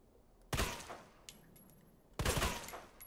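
Gunfire in the Resident Evil video game: two loud, sharp blasts about two seconds apart, each trailing off in a brief rattle, with a lighter click between them and no talk.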